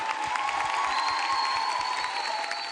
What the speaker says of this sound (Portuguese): eu peço aplausos para os três, por favor